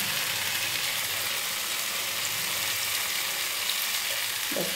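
Vegetables fry in a pan with a splash of water added, giving a steady, even sizzle and some light stirring scrapes close by, with no talking.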